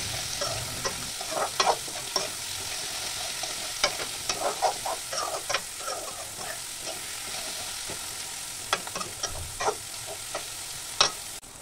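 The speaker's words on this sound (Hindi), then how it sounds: "फिर प्याज डाल देंगे, फिर भून लेंगे" Onions fry in a pan for a potato, pea and cauliflower curry, a steady sizzle broken by frequent scraping strokes of a spoon stirring them.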